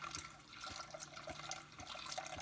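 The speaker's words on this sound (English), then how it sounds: "add in 1 quart of milk very carefully, stirring as we go" A quart of milk is poured into a pot while being stirred, giving a faint, continuous liquid splashing and trickling with light knocks from the spoon.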